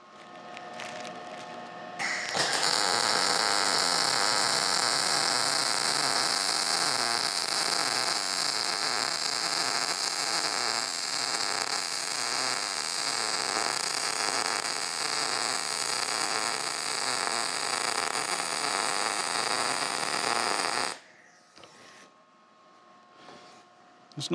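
Arc welding on a steel frame for a kayak and inflatable skiff trailer: a loud, steady crackling buzz runs unbroken for about eighteen seconds, then cuts off, leaving quieter room noise.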